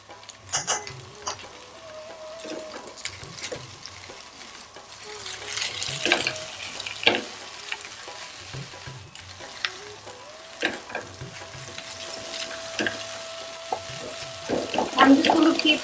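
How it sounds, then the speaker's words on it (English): Potato bhaji filling for masala dosa being stirred and mixed in a pan over a medium flame, with a soft steady sizzle and repeated spoon scrapes and knocks throughout, growing busier toward the end. "I'm just going to mix this really well"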